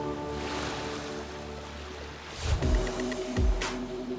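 Ocean waves at a surf spot swell and break in two surges, a steady wash building into louder crashing rolls near the end, with no voices.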